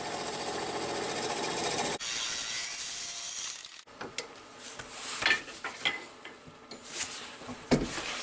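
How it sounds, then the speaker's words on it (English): A plug cutter bores into a wooden handle for a woodturned tippe top, with a steady mechanical whir at first, then rough scraping, grinding and knocking as the cutter bites into the wood. "Put that speed way down and bring up my plug cutter."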